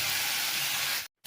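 Food sizzles steadily in a hot frying pan after salt goes in, a dense, even hiss that cuts off abruptly near the end and briefly resumes.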